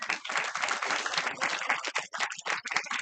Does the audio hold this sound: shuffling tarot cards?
no